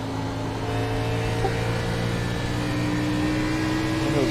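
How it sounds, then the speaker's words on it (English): Race car engine at a short-track Thursday night race, heard from on board as the rear end slides coming off turn 3, a steady loud drone with a slight pitch shift as the car drifts. "You could hear the rear end slide a little bit coming off"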